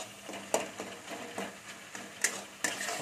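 A spatula stirs masala and mashes tomatoes in a pan of oil for a cauliflower and khesari dal fritter curry, giving about six rhythmic scraping strokes over a soft background sizzle, close and moderately loud, with no talking.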